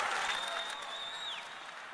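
A congregation at a Bible study applauds, a dense wash of clapping that fills the short moment with a steady crowd roar and a faint tonal whistle running through it.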